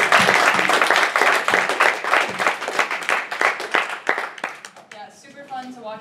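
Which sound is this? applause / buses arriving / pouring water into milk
applause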